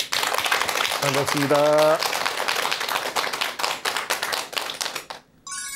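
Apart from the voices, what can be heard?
audience applause at a lecture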